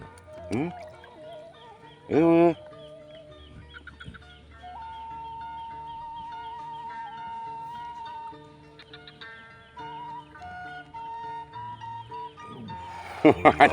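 Chickens cluck intermittently against a background of faint music and a brief voice, with a louder burst of squawking near the start and again at the end.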